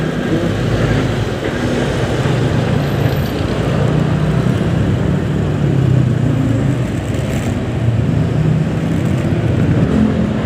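A truck rolls alongside a Honda Click 125 scooter on the road, heard as a steady, loud, close rumble of engines and tyre roar that stays unbroken throughout, with no talking.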